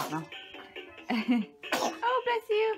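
A baby's voice makes a few short, breathy bursts, a sneeze amid little vocal sounds, close and fairly loud.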